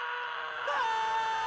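In a Sonic movie trailer, several people scream together, a short rising, wailing cry that holds on one high pitch over a low hum, moderately loud for about a second.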